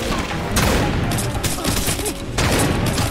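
A mounted gun in the video game Crysis Remastered fires dense, continuous bursts of loud close gunfire over a busy battle din, with a speaking voice faintly mixed in.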